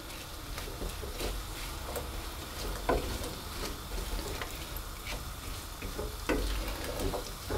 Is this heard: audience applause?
no